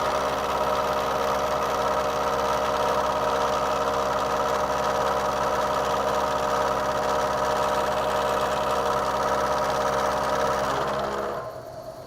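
A milling machine runs a 50-thousandths rough face-milling pass, giving a steady loud mechanical hum with a constant tonal whine and cutting noise throughout, which drops away abruptly near the end.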